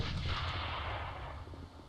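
A burst of gunfire shot through a wall in the shooter game AVA, heavy booming reports that roll into a dense rumble and then fade over a couple of seconds.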